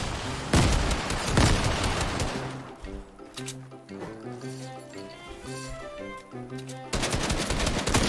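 Gunfire and bursts from a Fortnite match, with loud dense rapid shots at the start and end framing a quieter stretch of tonal game music in between.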